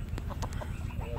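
Mangon-breed chicken clucking softly in a few short, faint calls over a steady low background rumble, with no talk.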